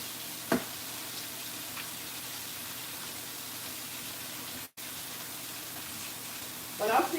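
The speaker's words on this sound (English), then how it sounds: "while this shrimp is cooking" Shrimp sizzles in a pan with a steady, faint hiss, broken by a couple of light clinks and a brief dropout.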